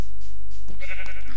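Sheep bleat in Minecraft, with a short loud nasal bleat rising over a constant low hum, and a second bleat overlapping near the end.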